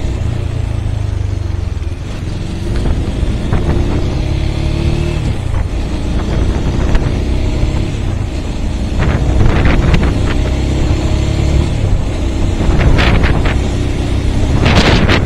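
A Regulmoto Alien Monster 300 motorcycle rides along with a steady, rumbling engine drone under heavy wind buffeting on the microphone, the tone shifting slightly with speed, no voices present.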